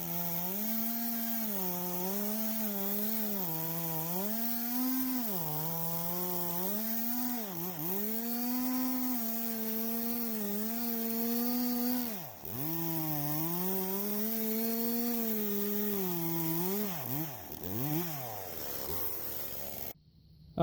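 A power saw, likely a chainsaw, cuts wooden 6x6 posts to three-foot lengths: a loud, steady, wavering engine whine runs without pause for about twenty seconds, dipping briefly as the cut eases.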